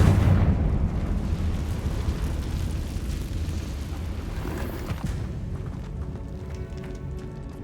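A Confringo fire spell exploding in Hogwarts Legacy, with a loud burst at the start that trails off into a long, dense rumble of rubble and crackling.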